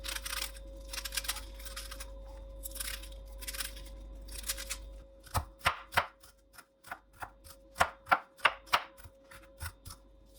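Cauliflower leaves are finely chopped with a knife on a board, first in quick bursts of rapid cuts over a low hum, then as a string of distinct, crisp single chops.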